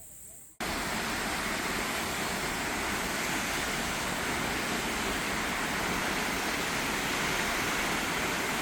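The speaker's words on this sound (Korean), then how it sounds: "이것이 비가 와야 만날 수 있는 쌍폭포입니다." A twin waterfall in a valley running full after rain; a dense, loud, unbroken roar of falling water that cuts in abruptly after a brief quiet start and stays steady to the end.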